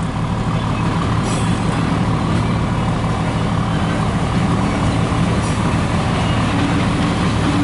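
A long CN westbound freight train led by locomotives rumbles steadily past at close range, a continuous heavy roll with faint squeals, and a voice is briefly audible under it.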